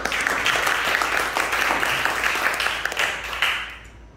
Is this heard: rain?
no